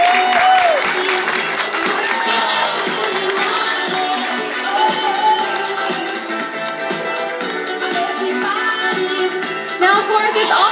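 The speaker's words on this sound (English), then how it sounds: "So why don't we go ahead and give him a big round of applause for some encouragement." A crowd at a sea lion show in a Florida marine park claps and cheers, the applause blending with music playing loudly over it.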